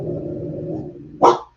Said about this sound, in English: What are you barking at, dog?